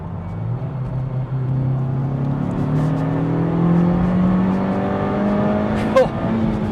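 Honda Civic Type R GT FK2 with a 306 bhp VTEC turbo engine, heard from inside as the engine note climbs steadily through the revs, a smooth rising drone with a faint shift-like blip near the end.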